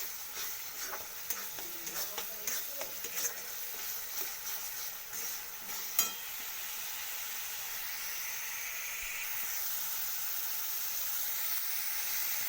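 Spices sizzle and fry in a pan while being stirred, with scraping strokes and light clicks over the first half, one sharp knock, then a smoother, steadier hiss of frying oil toward the end.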